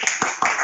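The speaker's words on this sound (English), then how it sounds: "Keep on clapping and click." A few people clap hands in short, uneven bursts, close and fairly loud, with the claps bunched into three quick clusters and no talk over them.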